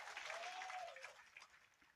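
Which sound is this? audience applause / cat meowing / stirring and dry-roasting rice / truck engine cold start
audience applause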